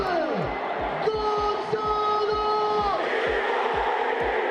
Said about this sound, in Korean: 장내 아나운서 다니엘레 벨리니가 선수들의 이름을 선창하고 홈팬들이 후창하는 모습인데요